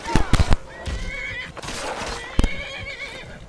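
A horse in the video game Skyrim whinnies loudly and close, a shrill neigh over a few hoof clops and a short snort, with no talking.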